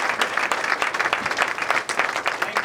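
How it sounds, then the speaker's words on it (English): A crowd claps steadily and fairly loudly at a political campaign launch, a dense patter of many hands with no voices on top. "that deserves a round of applause"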